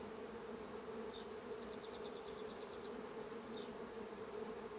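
A steady, faint buzzing hum of bees continues throughout, with a few brief higher chirps over it.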